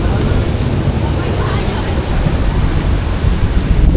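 Powerful ocean waves surge and crash against seaside houses, a loud, unbroken churning rumble that swells and drops, with faint voices under it.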